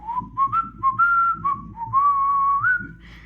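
A person whistles a short, wavering melody of rising and falling notes, mimicking a whistle, clear and close.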